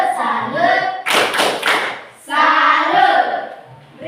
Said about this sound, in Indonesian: Tepuk salut untuk kelompoknya Landi.